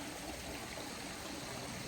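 A river flows beside a riverside walk among pines and cherry trees in Japan, a steady rushing babble that continues unbroken and close, with no voices.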